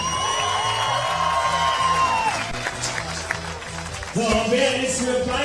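A crowd cheers and applauds at the Hyundai Archery World Cup recurve finals in Berlin in 2018, a loud, sustained wash of clapping and shouts with some tonal noise mixed in.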